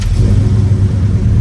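A fuel-injected big block 454 V8 in a 1970 Chevrolet Chevelle custom muscle car rumbles loudly and close, a deep steady engine drone with no talking over it.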